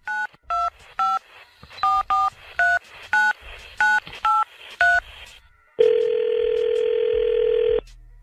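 A telephone keypad dials a number in about a dozen quick, evenly spaced beeps. After a short pause a steady, loud ringback tone follows, with no talking.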